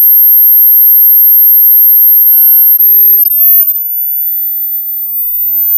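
A homemade mosquito-repellent oscillator set near 25 kHz gives out a steady, piercing high-pitched electronic tone. It sounds alone and unbroken, fading only slightly toward the end.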